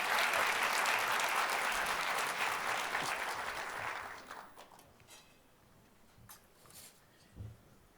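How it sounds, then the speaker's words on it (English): An audience at a food festival applauds chefs cooking on stage, a dense, fairly distant burst of clapping that fades out after about four seconds, leaving quiet room noise and a few scattered claps. "So give a round of applause to the chef for their work so far"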